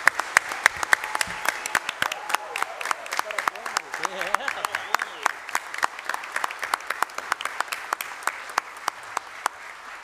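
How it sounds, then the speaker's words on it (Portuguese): Warm applause from an audience at a formal solemn session honoring a medal recipient, a dense sustained crowd clapping with sharp individual claps standing out, loud and continuous throughout, with a voice briefly heard over it. "eu quero uma calorosa salva de palmas"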